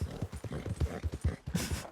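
Horse hooves clip-clop at a steady walking rhythm in the video game Red Dead Redemption 2, a lone rider's mount close and fairly loud with a brief burst of hiss near the end, no talk.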